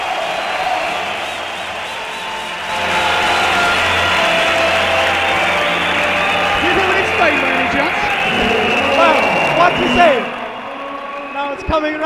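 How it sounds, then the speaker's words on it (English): A large crowd at the climbing world championship in Gijón roars and cheers, the noise swelling to a sustained wall of sound with commentators talking over it. "Wait for the roar."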